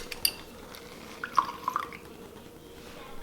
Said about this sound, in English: I'm gonna take the half of the lime as well as the half of the lemon, and I am going to squeeze it in there